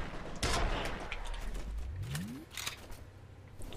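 Gunfire in the first-person shooter FEAR: a loud burst of rapid shots opens, followed by a descending whoosh and scattered bangs and impacts through the rest, with no voices.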